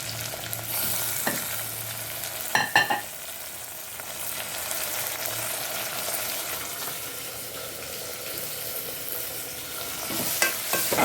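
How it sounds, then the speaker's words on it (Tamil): Tomatoes sauté in a pan with prawns for prawn biryani, making a continuous soft sizzle broken by a few sharp clinks and scrapes of stirring. "நல்லா வதங்கட்டும்."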